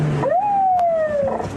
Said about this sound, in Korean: 순찰차가 사이렌을 울리며 차량을 뒤쫓기 시작합니다